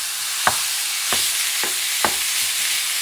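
Ground lamb stuffing for bell peppers frying in a pan, a steady hiss with a few sharp scrape-like clicks from stirring at a regular pace, close and without talk.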